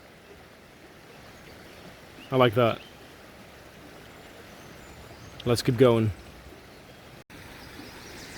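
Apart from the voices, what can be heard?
river water flowing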